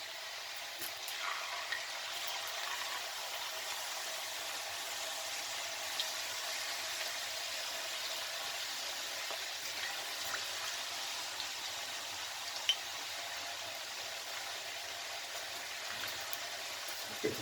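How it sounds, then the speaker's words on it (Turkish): Potatoes fry in hot oil for crisp homemade fries, a steady soft hiss and fine crackle that stays even and fairly quiet, with no talking. "4 dakika bir yüzünü 4 dakika diğer yüzünü kızartacağız."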